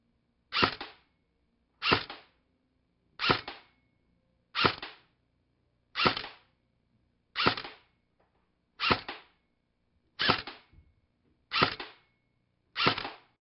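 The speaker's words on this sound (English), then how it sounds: "we're going to take 10 shots on semi-auto" A VFC AKS-74UN airsoft gun fired on semi-auto, ten sharp evenly spaced shots about 1.4 seconds apart, each a crisp snap with a short rattle, close and alone.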